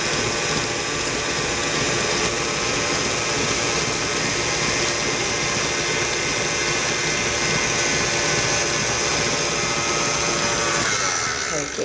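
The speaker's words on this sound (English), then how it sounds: "mix on medium speed until it comes together, and then you can increase the speed a little bit." A stand mixer with a paddle beats frangipane of butter and almond meal at medium speed, giving a steady motor whir and rhythmic churning that stay loud and even throughout, with a speech-like tone also present.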